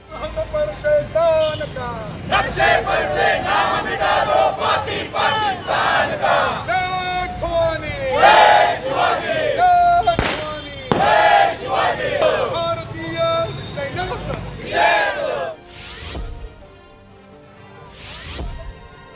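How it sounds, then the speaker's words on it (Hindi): A loud crowd chants slogans against Pakistan, voices rising in rhythmic rounds over a continuous roar, fading toward the end. "लोगों ने पाकिस्तान के विरोध में जोरदार नारे भी लगाए"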